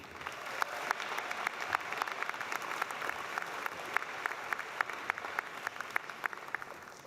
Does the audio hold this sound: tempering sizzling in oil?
no